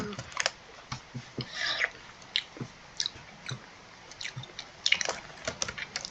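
A voice imitates eating while playing Minecraft survival, making wet chewing, smacking and biting mouth noises in irregular bursts, close and fairly quiet, with no talk.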